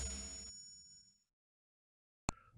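A notification bell sound effect gives a single bright, sharp ding, heard alone after fading music and a short silence.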